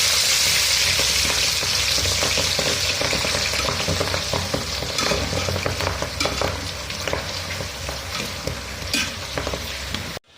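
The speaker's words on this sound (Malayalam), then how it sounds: "നമ്മളെ ചക്ക വറുത്തത് മുരിഞ്ഞ് വരുന്നുണ്ട്" Jackfruit chips deep-frying in hot oil: a loud, continuous close-up sizzle and crackle with stirring scrapes, steady throughout before cutting off at the end.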